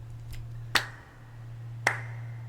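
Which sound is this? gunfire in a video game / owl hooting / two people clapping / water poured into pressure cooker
two people clapping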